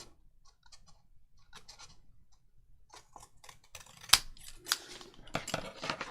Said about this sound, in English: let's just fold that in half. Cut these corners off.